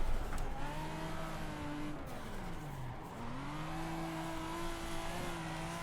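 The engine of a drift-built Supra MK4 at Spa in the Assetto Corsa racing game drones steadily close up, with a pitch dip and a climb back as it shifts and revs.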